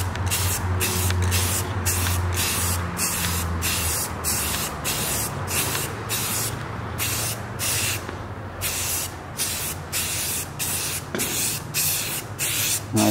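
Spray paint hisses in a touch-up coat on a Nissan 240SX, delivered in short, rapid bursts with brief gaps, close and fairly loud throughout.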